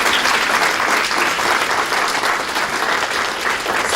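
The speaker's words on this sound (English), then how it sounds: "Can we have a round of applause for our panel?" An audience applauding a panel at a training event, dense, loud, sustained clapping from a large crowd throughout.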